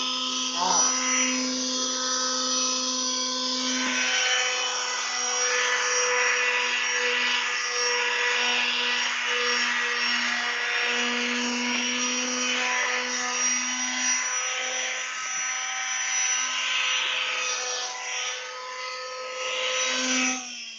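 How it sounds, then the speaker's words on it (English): A power sander runs continuously on wood, a loud steady whine with a sustained hum and slight shifts in pitch as it works, close up and unbroken for the whole stretch. "Alright, all the hard sanding is done."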